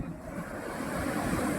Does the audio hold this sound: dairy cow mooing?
no